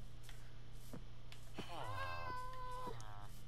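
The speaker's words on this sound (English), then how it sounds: "Oh, there's a cat here." Cat meowing in Minecraft, a single clear drawn-out meow rising and falling over a low background hum, preceded by a few soft clicks.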